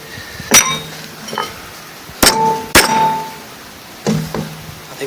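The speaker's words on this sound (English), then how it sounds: "take a moment to use your hammer and reshape this as need be." Hammer blows reshaping a metal wire terminal for scratch-built car wiring: several sharp metallic clangs, single and in quick pairs, spaced a second or two apart with ringing tails, close and fairly loud, no talk.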